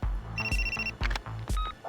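A phone ringing in the racing game Need for Speed Carbon, a cut call: repeated short electronic ring bursts in quick succession, clear and close with no one talking.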